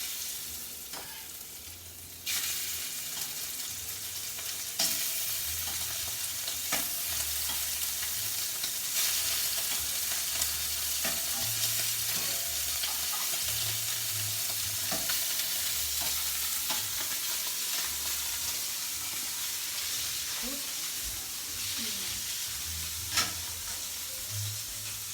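Scallops searing in a shimmering, lightly smoking hot pan give a steady, close sizzle that holds for the whole stretch, broken now and then by soft clicks and scrapes, with no talking.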